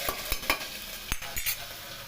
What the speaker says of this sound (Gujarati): રાઈ તતરી ગઈ છે એટલે આપણો અજમો નાખી દેવાનો છે અને તેની અંદર આદુ લસણની પેસ્ટ નાખી દેવાની છે